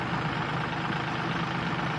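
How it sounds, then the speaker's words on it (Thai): A Kubota L5018 tractor engine runs at a steady, loud low rumble during a recovery after getting stuck, droning continuously with no break or change in pitch. "รถไถ L 5018 นะครับ ตอนนี้ก็ยังติดลมยังไม่ขึ้นนะครับ"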